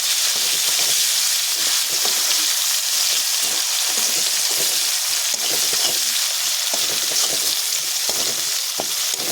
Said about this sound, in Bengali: পেঁয়াজটা দিয়ে আমি ভালো করে নাড়াচাড়া করে নেব।